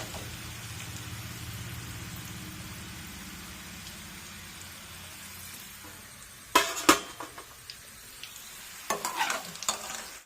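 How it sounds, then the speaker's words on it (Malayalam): Bitter gourd pieces fry in steadily sizzling oil, then a utensil scrapes and clinks against the pan in a few brisk bursts. "അതേ എണ്ണയിലേക്ക് ബാക്കിയുള്ളതും വറുത്ത് കോരാം"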